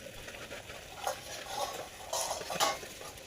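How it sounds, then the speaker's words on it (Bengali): Peeled pointed gourd frying in oil over low heat, with soft scraping strokes of a spatula stirring in the pan at irregular intervals, faint and close. "পটলগুলো ভালো করে ভেজে নিতে হবে নরম নরম আঁচে দিয়ে।"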